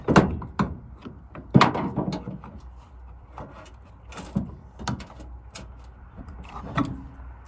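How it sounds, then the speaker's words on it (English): A screwdriver pries at the plastic housing of a garage door opener motor, producing a close series of irregular clicks, knocks and plasticky snaps separated by short quiet gaps. "take this screwdriver here and pry this open to be able to get the motor out of there"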